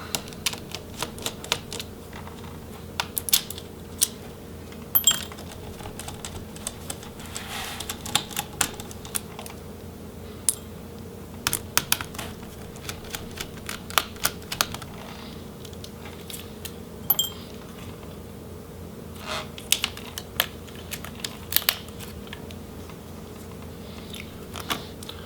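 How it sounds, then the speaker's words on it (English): Small screws come out of an HP Spectre x360 15 laptop motherboard in quiet, scattered ticks and clicks from a screwdriver and handled parts, close and faint, over a low steady room hum with no talking. "we will go ahead and finish removing these screws from the motherboard"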